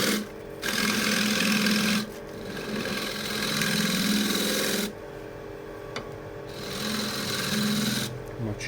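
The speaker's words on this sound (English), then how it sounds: "For this I can use scraper." A scraper cuts into a chestnut wood bowl spinning on a lathe, giving loud sustained rasping passes of about two seconds each, separated by short pauses, with the lathe's low hum running underneath.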